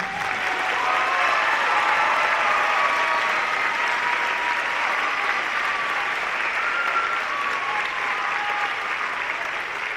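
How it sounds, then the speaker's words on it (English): An audience applauds graduating cadets at a Washington Youth Challenge Academy commencement, sustained dense clapping from a large crowd that holds steady and loud for the full stretch, with faint voices underneath. "Now you can applaud them all."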